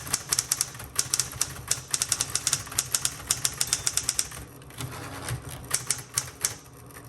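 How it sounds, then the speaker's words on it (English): Typing on a 1970s green metallic Smith Corona Electra 110 electric typewriter: rapid bursts of sharp key strikes in uneven runs, close and crisp, with a short pause mid-way as the carriage returns before typing resumes. "Now I'm gonna hit the return handle."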